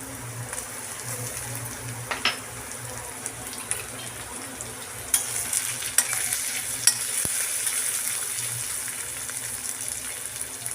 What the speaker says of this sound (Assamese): 1 মিনিটমান মই পিঁয়াজখিনি ভাজি লোৱাৰ পিছত এতিয়া ইয়াত মই বিলাহী দিম